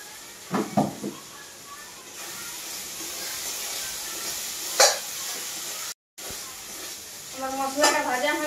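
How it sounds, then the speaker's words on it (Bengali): Spices fry in a pan with a continuous moderate sizzle and hiss, joined by a few louder bursts of spitting and stirring. A voice talks over it at the start and end. "আমার মশলাটা ভাজা হয়ে গেছে,"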